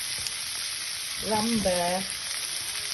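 Plenty of curry leaves frying in hot oil for goat intestine curry give a loud, continuous sizzle throughout, with a brief spoken word over it.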